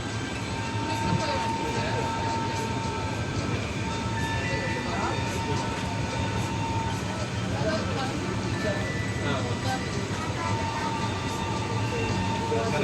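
Continuous rumbling of a moving train with steady clatter and hum, heard from inside, with faint voices mixed in.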